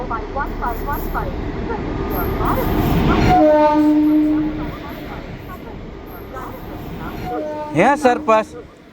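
A train rumbles loudly nearby at a railway station with a sustained horn blast, and a voice speaks briefly near the end.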